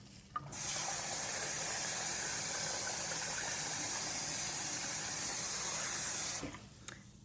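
Cold water runs from a kitchen tap into a pot for grits. It is a steady hissing stream for about six seconds that starts and stops cleanly, close to the mic, with no talking.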